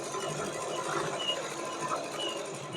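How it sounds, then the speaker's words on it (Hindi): A sewing machine stitching fabric diagonally for a heavy deity outfit, a continuous fast whirring hum of the needle mechanism running steadily at close range with no pauses. "यहाँ से इस तरीके से तिरछे में सिलाई लगा देंगे यहाँ तक"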